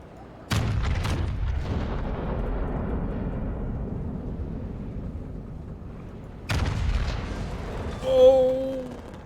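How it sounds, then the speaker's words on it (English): Fireworks burst in a naval warship video game: two sharp booms, each trailing off into a long rumble, followed by a short tonal whistle near the end. "Oh, I got the fireworks."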